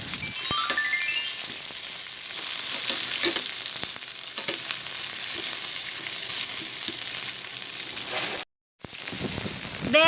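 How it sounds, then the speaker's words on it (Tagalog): Minced garlic and onion sautéing in a hot pan for ginisang ampalaya, a loud, steady sizzle with occasional stirring scrapes and clinks, close by, briefly cutting out before resuming. "Saute the minced garlic. Followed by the onion."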